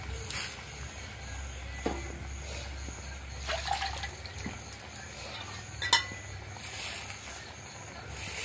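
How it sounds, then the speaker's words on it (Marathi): Freshwater monsoon fish are dropped into water already boiling in a kadhai. A low, steady bubbling rumble runs throughout, with brief splashy trickles and faint clinks rising above it here and there. "कढईत तर उकळी इलेली आहे आणि आता आपण हे मासे टाकूया त्याच्यात."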